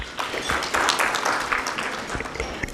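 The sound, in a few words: applause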